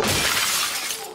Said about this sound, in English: after accidentally breaking Monica's fine china, he isn't sure if he'll live much longer